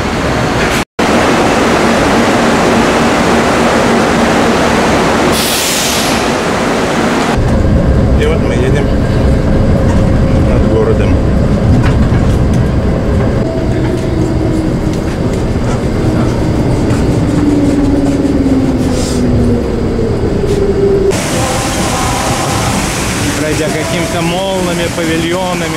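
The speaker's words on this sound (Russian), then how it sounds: "Вот мы подошли к станции этой монорельсовой дороги. Он едет." A monorail train passes a station in Kuala Lumpur, a loud, steady rushing rumble swelling and holding for many seconds before easing off, with brief voices around it.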